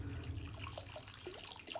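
Muddy water from backyard dirt being poured off, a continuous close trickling and splashing with small gurgles and drips throughout, no voices over it.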